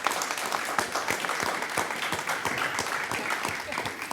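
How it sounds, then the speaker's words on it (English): A room claps for the candidates at a Chamber of Commerce candidate forum. The applause is fairly faint and distant, with distinct individual claps and a few murmuring voices. "Let's give all of our candidates a round of applause."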